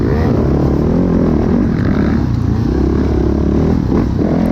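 A 450 dirt bike revs hard during an off-road race through wooded, hilly terrain, its engine a loud, continuous close-up roar with rising and falling throttle and some rattling clatter, no talk over it.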